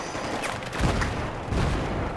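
Grenade explosions in the video game Battlefield 3 campaign, two heavy low booms about a second apart over a dense layer of battle noise and gunfire, fairly loud and close.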